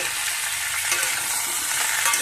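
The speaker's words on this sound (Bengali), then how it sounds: "আর একটু রাঙা আলুটাও একটু নেড়ে নেব" Vegetables with ridge gourd, stems and sweet potato are stirred and fried in hot oil in a pan, giving a continuous bright sizzle with soft scraping from the stirring and no talk.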